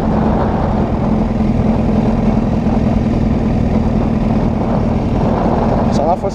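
A Honda CBR 1000 RR motorcycle engine running hard at speed, a loud, continuous low drone with steady roar and wind rush throughout, ending with a brief dip.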